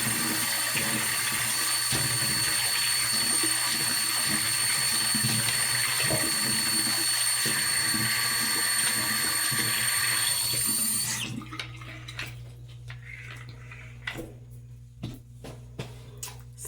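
Hot water runs steadily from a tap in a strong continuous rush that suddenly stops near the end, leaving quiet room sounds and small clatters.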